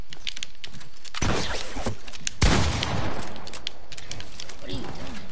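Sharp bursts of gunfire from a golden pump shotgun in a video game, with a loud blast near the start and a heavier one at mid-clip, mixed with clicking under steady game noise.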